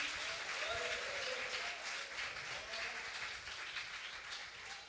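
Congregation applauding in a Portuguese-language church service, sustained dense clapping from many people, fairly distant and even, with faint voices and a few cheers mixed into the roomy wash.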